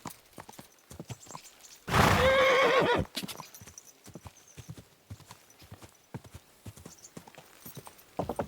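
Steady horse hoofbeats clip-clop throughout in the video game Kingdom Come: Deliverance II, broken by one loud, drawn-out whinny near the start before the trotting continues.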